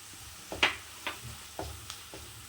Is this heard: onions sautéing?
yes